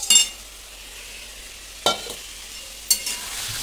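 Potatoes with salt and spices are stirred in a frying pan, with a spoon scraping the pan in three short bursts over a quiet, steady sizzle.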